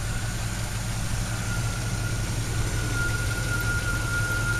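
A 1984 Chevrolet Monte Carlo CL idles smoothly and steadily, giving a constant low rumble with no breaks or changes.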